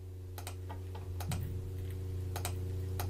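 A handful of sharp computer mouse clicks, irregularly spaced and close, tap out over a steady electrical hum while masking in Photoshop, with no one talking.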